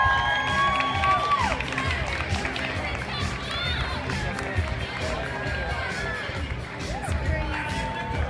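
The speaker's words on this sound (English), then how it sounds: "Ladies and gentlemen, give him a warm round of applause as he comes into the stadium." Stadium crowd cheering and applauding steadily as a Red Devils parachutist comes in over a ballpark, a broad continuous roar with shouts and whistles throughout and a public-address voice talking over it.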